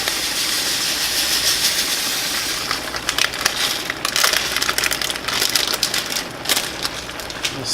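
Brown rice and quinoa go into a pot of boiling water for a beef-and-rice camping meal, a dense grainy hiss and steady bubbling rumble that turns into irregular crackling patter and clicks as the grains settle, close and fairly loud with no talk.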